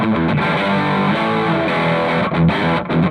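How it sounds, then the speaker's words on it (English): Electric guitar played on the bridge pickup through a Devilcat Jimmy amp's heavy overdrive channel, loud, thick distorted chords ringing continuously with a couple of brief choked breaks near the end, no talk. "engage the heavy overdrive channel right now on the bridge pickup, and you don't hear any hum"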